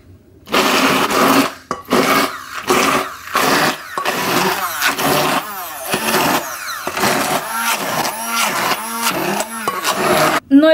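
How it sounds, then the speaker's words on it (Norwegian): An immersion blender works through sticky protein bread dough in bursts, loud and close, with short pauses between passes and a rasping, laboring whir that shifts in pitch as the dough thickens. "Når du har gått over alt sammen med stavmikseren, så skal det se ut som en litt sånn klissete deig"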